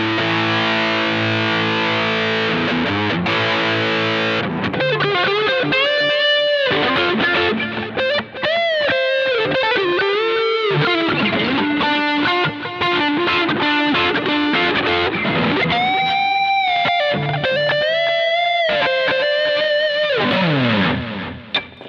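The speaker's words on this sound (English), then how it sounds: "Let's add a bit of drive." Overdriven electric guitar, a Fender Noventa run through a Boss GX100 effects processor, plays loud sustained chords and melodic bends with a thick distorted tone, continuous for about twenty seconds with no talking.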